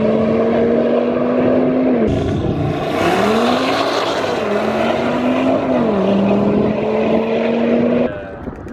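A car launches hard for a 0-60 acceleration run, its engine roaring loud and close as it climbs through rising pitch sweeps with audible gear shifts, then the noise drops away at the end.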